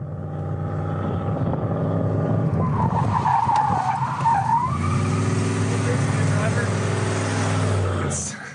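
The KITT car from Knight Rider races across the desert with tires skidding and an engine roaring in a long continuous rush, while a voice talks over it.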